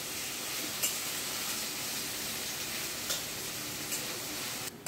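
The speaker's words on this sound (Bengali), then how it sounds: "পেঁয়াজগুলো বেশ ভালোভাবে একটু লাল লাল করে ভেজে নেব প্রথমে।" Onions frying in a pan over medium heat until reddish, a steady soft sizzle with faint stirring scrapes throughout, close and alone.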